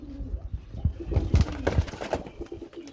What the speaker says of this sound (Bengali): খুবই শর্ট ফটা কবুতর দেখতে পাচ্ছেন, ফুললি রানিং জোড়া